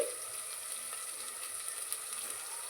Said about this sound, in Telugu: దీన్ని కూడా పచ్చివాసన పోయే వరకు బాగా ఫ్రై చేసుకోండి